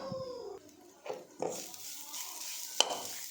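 Grated coconut dry-roasting in a pan, with a few soft scraping stirs and a faint dry sizzle, close and quiet with no talk.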